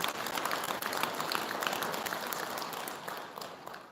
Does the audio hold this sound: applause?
yes